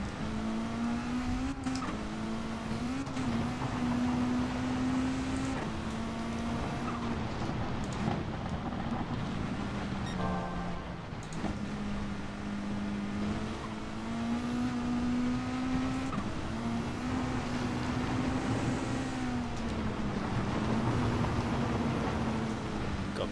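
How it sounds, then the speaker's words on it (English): Rally car engines roar continuously through an off-road race in GT Sport, a steady high-revving drone that rises and falls with gear changes, loud and close throughout. "I really enjoy these rally cars. They're good fun to drive"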